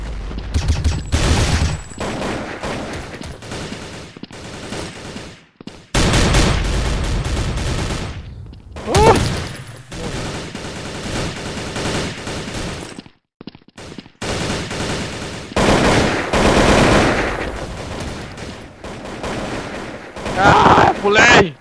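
A powerful gun fires in the browser shooter Bloodstrike: repeated bursts of loud gunfire come in stretches separated by brief gaps, with a voice talking between and over the shots.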